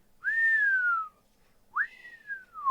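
A person whistles two long, clear, sliding notes, each rising sharply and then falling slowly, imitating a bird's call with a short gap between them.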